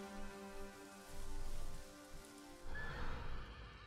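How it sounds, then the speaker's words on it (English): Wild horses in the samurai video game Ghost of Tsushima neigh and whinny loudly in two drawn-out bursts over a soft, rain-like patter, with no voices. "Are these like just wild horses?"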